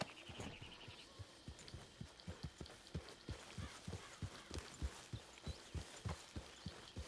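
Horse hooves clip-clopping in Red Dead Redemption 2, a steady rhythmic series of soft thuds at a trotting pace, fairly quiet, with a faint background tone.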